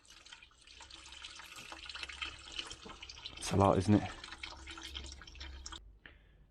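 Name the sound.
leftover coolant draining and dripping from a Volvo 940 Turbo engine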